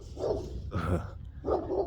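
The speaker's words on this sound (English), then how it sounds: "gotta watch these dogs." Street dogs bark in three quick, mid-distance woofs spaced evenly over a couple of seconds, with no talking.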